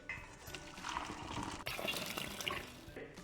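Starchy water from partially cooked biryani rice, about 60–70% done, drains out in a steady gushing pour with splashing, continuous and close throughout.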